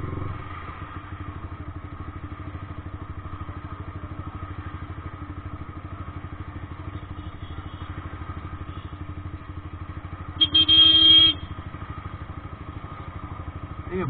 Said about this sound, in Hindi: इतना जाम लगा हुआ है देखिए भाई